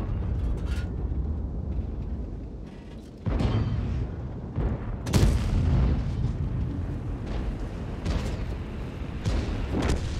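Heavy tank cannon shots in World of Tanks, a Swedish Tornvagn tank, boom out as several deep, loud blasts with rumbling decay, the biggest near the middle, set against a continuous low engine drone.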